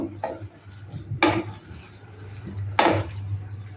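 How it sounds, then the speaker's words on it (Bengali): A spoon scrapes and knocks through okra in a pan as it is mixed for dahi bhindi, a few distinct clattering strokes over a steady low hum, close and moderately loud, with no one speaking. "ভেন্ডিগুলোকে দিয়ে এটা ভালো করে মিশিয়ে নেব"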